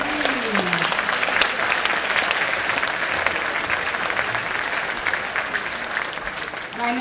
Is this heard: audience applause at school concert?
yes